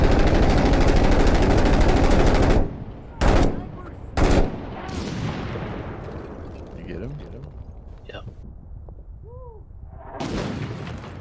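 Gunfire in the video game Six Days in Fallujah: dense sustained shooting roars for a couple of seconds, then two sharp separate bursts follow and scattered quieter shots trail off, with voices talking over it.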